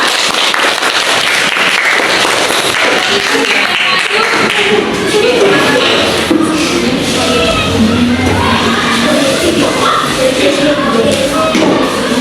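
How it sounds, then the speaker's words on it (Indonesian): Students in a junior high classroom clap together in a sustained round of applause for a classmate, dense and steady throughout with a few voices mixed in. "tepuk tangan untuk nomor 2"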